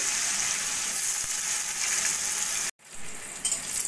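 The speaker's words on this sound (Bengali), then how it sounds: "মাছের ডিম ভাজার ওই তেলের মধ্যে আরেকটু তেল দিয়ে প্রথমে আমি আমের পিসগুলো ভেজে নেব" Mango pieces fry in hot oil left over from frying fish roe, a steady, bright hiss and sizzle close to the pan, broken by one brief gap before the crackling resumes.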